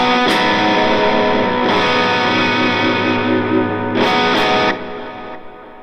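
Electric guitar chords from a worship song ring out through a Line 6 Helix or HX Stomp with distortion and chorus, strummed in a few long sustained swells, loud and close with no talking.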